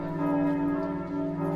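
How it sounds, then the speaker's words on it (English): Church bells ringing on a theatre stage during a Christmas Carol drama production, a steady sustained peal heard alone, fairly quiet and distant. "The bells. The bells. The bells!"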